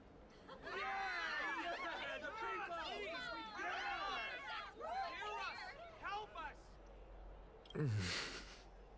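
Crowd chatter from a gathering of citizens in the video game Honkai: Star Rail, a steady hubbub of overlapping voices close by, with a louder burst near the end.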